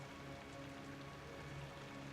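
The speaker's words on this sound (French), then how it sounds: "C'est bien à Londres, hein, il pleut." Steady rain falls over London in the Rise of the Tomb Raider video game, a constant even hiss of drops on surfaces with no other sounds and no voices.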